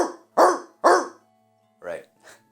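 A person imitates a dog, voicing three loud barks followed by two softer, shorter bark-like yelps, delivered up close.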